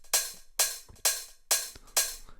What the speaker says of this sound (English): I lowered it, which gives you that kind of pumping effect on your hi-hat